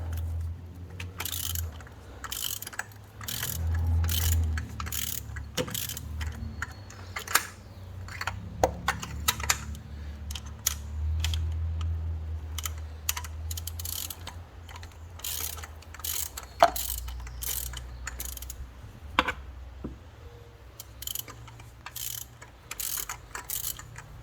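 A ratchet clicks in repeated short bursts while breaking loose the spark plugs on a 2015 Honda CR-V, each burst a quick crisp run of pawl clicks heard close up over a low steady hum.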